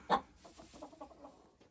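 Silkie hens kept in a warm greenhouse, one quiet close cluck followed by a few soft, low murmuring clucks over under two seconds.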